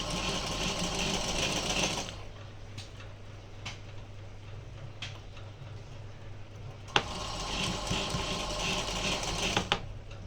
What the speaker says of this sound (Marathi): बिना खेचता आपण क्रॉसपट्टीची टीप मारून घेऊ